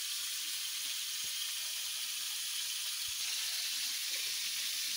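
Steady close sizzling and hiss of Malabar spinach frying in a pan, continuous and even with no pauses, with a couple of faint soft knocks underneath.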